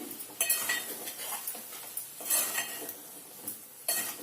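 Okra and tomato curry being stirred in a metal pan, a spoon scraping and clinking in quick irregular strokes, with a soft sizzle underneath, close and fairly quiet.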